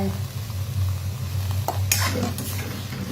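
Fingerroot (krachai) is stir-fried in a pan, giving a soft steady sizzle with a few scraping stirs and clinks toward the end.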